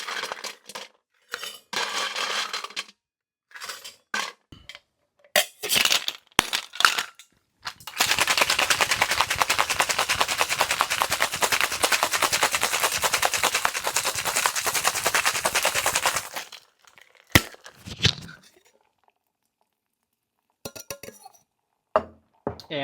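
Ice rattles hard inside a sealed cocktail shaker during an Enzoni cocktail preparation, giving a loud, dense, rapid clatter for about eight seconds, framed by scattered clinks of glassware and ice being handled.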